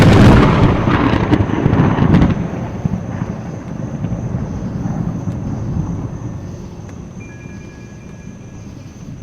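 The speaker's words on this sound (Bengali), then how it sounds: "বাইরে আকাশ ফেটে যেন করকরে শব্দে প্রচণ্ড জোরে একটা বাজ পড়ল।" A loud thunder clap effect in a Bengali audio story, a sharp crackling burst that rolls into a long, fading rumble beneath falling rain, with no voices.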